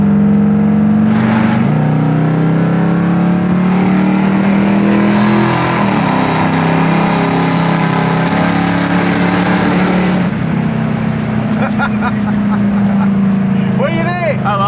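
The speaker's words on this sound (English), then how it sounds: "I'll just put it in drive. We'll cruise with it a second." A 1970 Pontiac GTO muscle car engine rumbles loud and close with a deep steady drone, its pitch rising as the car pulls away and cruises, while people talk briefly near the end.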